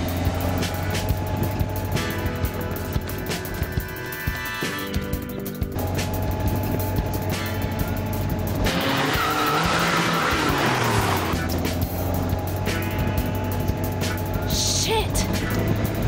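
A car pulls away fast with tires skidding and squealing, engine noise loud and continuous over a busy background, with a voice speaking over it briefly.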